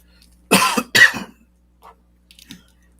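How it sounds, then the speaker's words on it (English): A person coughs in two sharp, loud bursts close to the microphone, followed by a few faint throat noises and quiet breaths. "I still have some bouts of coughing"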